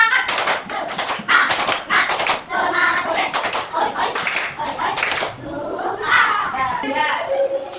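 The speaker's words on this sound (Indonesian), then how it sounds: "Yuk, tepuk semangat." Elementary schoolchildren in a classroom perform the rhythmic 'tepuk semangat' clapping chant before a civics lesson, with bursts of group clapping in patterned beats mixed with shouted chanting voices, loud and close throughout.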